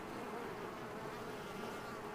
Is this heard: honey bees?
yes